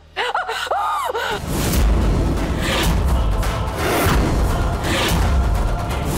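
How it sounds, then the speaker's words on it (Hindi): A voice cries out in distress at the start, then gives way to loud, steady noise with muffled thumps and commotion. "ये तो चाची की चिल्लाने की आवाज है।"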